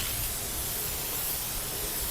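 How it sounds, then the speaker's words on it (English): Steady continuous hiss of an aerosol spray paint can painting a container, close and even, with no pauses or voices. "start the spray outside of the container and let go when you're off on the side"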